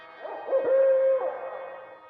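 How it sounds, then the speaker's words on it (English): A cartoon owl gives a single long, steady hoot with a short rising lead-in, loud and close, then trails off, with no talk over it. "It sounded more like Bubo the owl."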